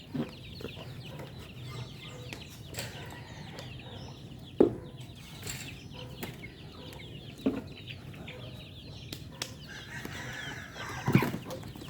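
Rhode Island chickens cluck faintly in a quiet yard, with scattered soft calls and a few sharper, louder clucks rising above a low background hum.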